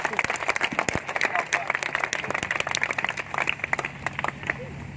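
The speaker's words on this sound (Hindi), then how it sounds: "भाई पास्टरों के लिए भी एक बार जोरदार ताली बजा दीजिए।" A church congregation at a spiritual meeting claps for the pastors, a dense, lively burst of applause that fills the hall at moderate loudness, with voices mixed in beneath it.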